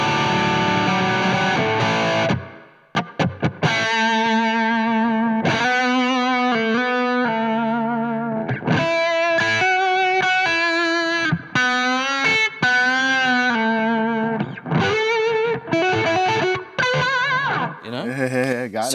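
An overdriven electric guitar with humbucker pickups, played through a Blackstar HT Venue MK3 amplifier, plays a warm, thick lead line of sustained bends and phrases, loud and close, with brief pauses between runs.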